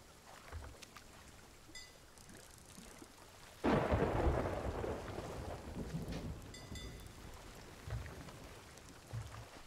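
A thunderclap bursts out loud and close during a thunderstorm at sea in the video game Sea of Thieves, then rolls on over steady rain, with a few smaller rumbles afterward.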